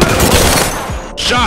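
A shotgun blasts in the Apex Legends video game, two loud close booms in quick succession amid noisy game action, with a voice shouting over them.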